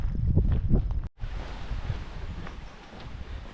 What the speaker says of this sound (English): Maybe a bit of wind noise down here, but I don't care because that is wind and it's keeping the midges away.